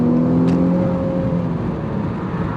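A 2021 Chrysler 300 with a V6 engine accelerates from the cabin, a steady droning engine tone with a smooth rising whir, loud and continuous with no talking.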